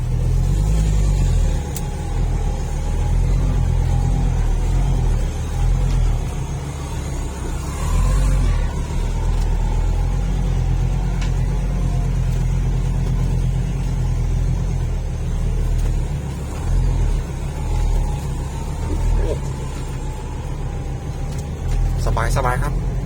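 Inside the car, the engine revs with a loud, sustained rumble that rises and falls as the driver presses the accelerator, and a brief whine surges around the middle.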